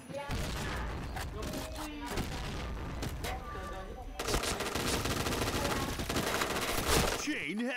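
Rapid gunfire from the online shooter game Point Blank, dense bursts of automatic fire and shots running continuously and loudly throughout, with game effects and a voice mixed in.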